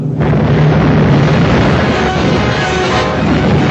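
Ship cannons fire in a 1942 pirate sea battle film, a loud sustained roar of broadside blasts and explosions that fills the scene, with a shouted voice at the start.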